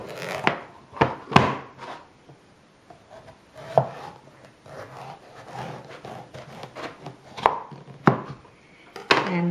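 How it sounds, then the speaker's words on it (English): A knife splits a butternut pumpkin in half lengthwise, leaving the skin on. Sharp, close knocks and thuds against a board come in irregular bursts, separated by quieter scraping and handling noises. No one speaks. "Just cut the butternut pumpkin in half lengthwise."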